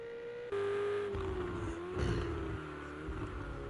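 A GTE race car engine at Bathurst Mount Panorama whines at a steady high pitch, then gives a louder tonal drone that rises and falls with shifts, heard close as if from onboard.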